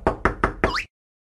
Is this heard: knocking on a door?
yes